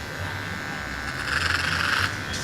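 A Wahl Magic Clip hair clipper buzzes close up while trimming hair in a barbershop, a steady electric hum rising briefly in loudness as it bites into the hair.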